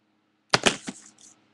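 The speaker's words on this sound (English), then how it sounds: "that was my phone that fell on my computer" A phone drops onto a computer, landing in a quick cluster of three or four sharp knocks and clatters, followed by a faint, brief rattle as it settles. The sound is close and clear, and no one speaks.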